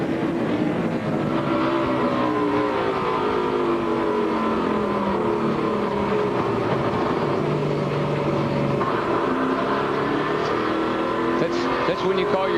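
NASCAR stock cars race at well over 150 mph during the 2004 Subway 400, heard as a sustained engine roar with shifting pitch and a commentator talking throughout.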